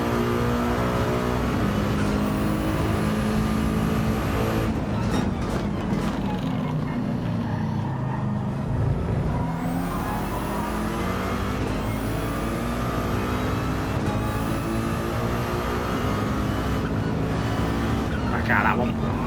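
Race cars in Gran Turismo 7, including an AMG, roar steadily through a daily online race, engines revving and shifting continuously at close range under a commentator's voice.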